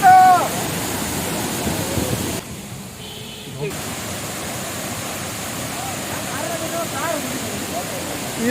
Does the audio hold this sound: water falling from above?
yes